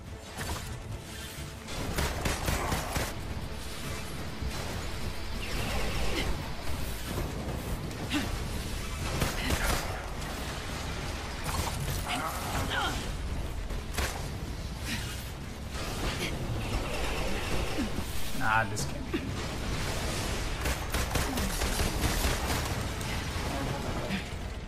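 Gunfire at an enemy in Marvel's Avengers pops and bursts through a loud, busy game mix of mechanical clanks and explosions, sounding in repeated bursts over the whole stretch.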